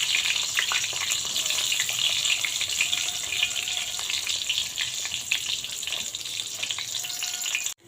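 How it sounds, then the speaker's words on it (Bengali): Steady, bright sizzling of eggplant slices frying in a generous amount of oil in a wok, close and constant for several seconds with scattered pops, then cutting off abruptly at the end. "বেগুন ভেজে নেব"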